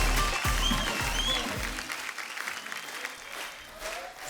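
An audience at a film promotion event applauds to welcome a music composer, giving a steady, dense wash of clapping with faint crowd murmur that sounds soft and somewhat distant throughout.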